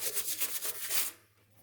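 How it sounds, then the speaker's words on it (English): Quick back-and-forth scraping of sandpaper on the edge of an epoxy resin mirror frame, about six rhythmic strokes, close and fairly loud, then it stops. "Take sandpaper and sand."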